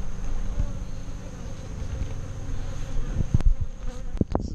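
Honeybees buzz at a backyard hive in a steady, dense drone close by, with a few sharper knocks and bumps near the end and no one talking.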